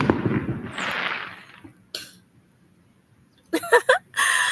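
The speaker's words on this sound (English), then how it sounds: "And that was a firework, very randomly." A single firework bursts outdoors with a broad crackling blast that fades over about a second, followed after a quiet pause by a brief pop and then a cluster of sharper crackles near the end.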